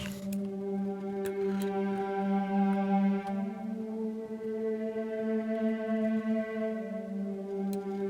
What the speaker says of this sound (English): Next up, I have this like synth string sounding thing.